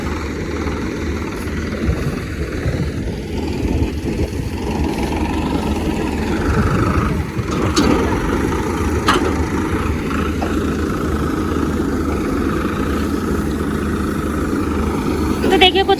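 A combine harvester unloads harvested wheat into a waiting tractor in the field, giving a loud, continuous heavy engine drone with mechanical rumble that stays steady for the whole stretch.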